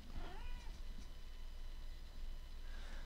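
A pet cat meows indoors with a couple of short, clear calls near the start, then quieter room noise follows.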